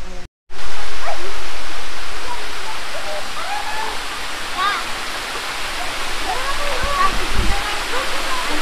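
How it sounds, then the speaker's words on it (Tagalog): Tagkukuring Falls in Puerto Princesa, with a weak flow pouring into shallow water, makes a steady broadband rush that starts abruptly after a brief gap and holds close and loud, with faint birdsong and voices over it. "Kaya medyo mahina po yung pagaspas ng falls"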